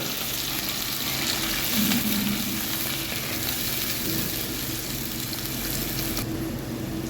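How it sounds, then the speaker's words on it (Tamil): Chopped onions and curry leaves sauté in hot oil with cumin for a fish curry, giving a steady, close sizzle with soft stirring scrapes throughout. "கருவேப்பிலை வெங்காயம் சேர்த்துருக்காங்க நல்லா வதங்கிட்டு கிண்டி விட்டுருக்காங்க"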